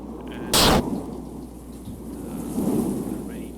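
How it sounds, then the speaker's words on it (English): Steady rain hiss from a rain-and-thunder sound effect in a game asset demo, with a sharp, loud thunder crack near the start and a softer rumble later, all fairly quiet. "the rain sounds."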